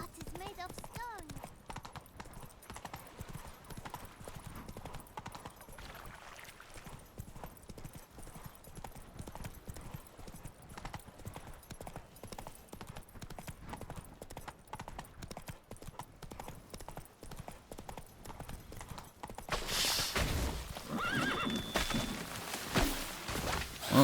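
Hooves of the horse Roach gallop in a steady, rapid clip-clop rhythm in The Witcher 3, running nearly throughout with game ambience, a voice talking over it, and a louder burst of wind-like noise near the end.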